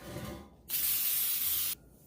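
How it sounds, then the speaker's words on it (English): Baker's Joy, a flour and oil spray in a can, hisses into a cake pan for a spice cake in one close, steady burst of about a second that cuts off sharply. "I have a little baker's joy that I'm going to spray in my pan."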